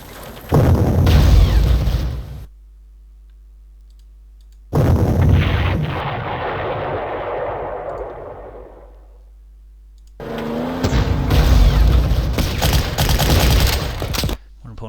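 Artillery fire in the Panzer Corps World War II strategy game, heavy booming blasts in two loud bursts with a long decaying rumble between them, separated by a silent gap.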